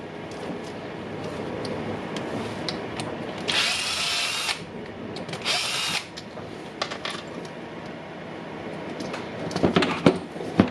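Cordless screwdriver or drill whirring in short bursts while unscrewing the motor screws of a Makita reciprocating saw during a teardown repair, with two louder spins and clicks and handling noise between them, close by.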